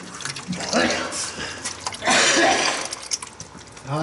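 Water pours and trickles out of a VW engine crankcase suspected of a head gasket fault, a steady splashing flow with drips, heard under excited talk from people nearby.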